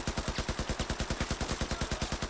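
Rapid, steady bursts of supporting gunfire from a Battlefield 4 match, a relentless automatic rattle of evenly spaced shots at close range with no voices over it.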